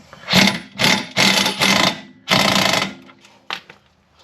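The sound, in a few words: tightening rear shock bolt on Jeep Cherokee KL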